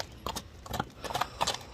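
A large horse walking, hooves clopping in a loose uneven rhythm at close range, with faint background noise.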